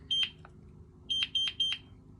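A GE Simon XTI alarm panel beeping after a door sensor opens: one short electronic beep, then a run of three quick evenly spaced beeps, clear and close over a quiet room.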